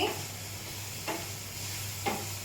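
A ragi and carrot kheer mixture is stirred in a pan over a gas flame. Two soft scraping strokes about a second apart sound over a steady, quiet sizzle and hum, with no voices.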